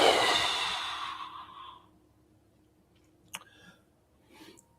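A long, deep breath pushed out during guided meditation starts strong and close, then fades away, followed by a few faint clicks and a soft breath.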